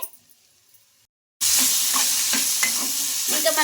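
Tomatoes, green chillies and roasted gram fry in a pan, starting from near silence before a sudden loud, close sizzle with scraping stirs that continues to the end.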